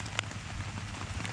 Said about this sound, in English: You can see it's raining, guys.